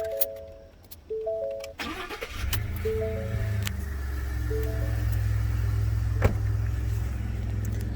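A 2017 Ford F150 XLT with the 2.7L EcoBoost V6 and its exhaust resonator cut off starts up after a few chimes, then settles into a steady, deep idle rumble, close by.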